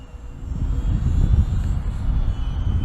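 A HobbyZone Champ RC airplane flies a loop, its motor a steady, fairly loud low rumbling drone that swells slightly mid-pass and holds for about three seconds with no voices.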